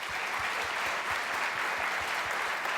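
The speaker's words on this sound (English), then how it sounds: "So please join me in a round of applause for our guests." A dense, continuous round of applause from an audience for panel guests at a debate event, steady and fairly loud from start to finish with no talk over it.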